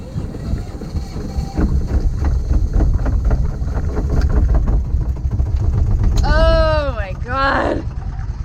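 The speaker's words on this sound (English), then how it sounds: "The engine started." A boat engine at sea turns over and catches, settling into a steady mid-pitched idle thrum, with wind buffeting the microphone and a voice breaking in near the end.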